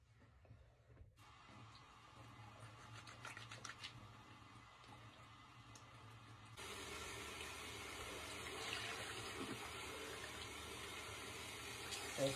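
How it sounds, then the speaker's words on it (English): Tap water runs into a sink for wetting hands before bed, a soft gentle flow that swells into a louder, steadier gush partway through, with no voices. "Probably wet your hands a little bit."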